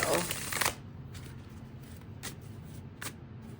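Tarot cards are riffled in a quick burst, then tapped and shuffled in a few short soft bursts, close by and quiet.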